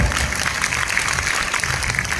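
An audience clapping at a personality development program in Katni, dense and continuous with a busy, reverberant hall sound throughout.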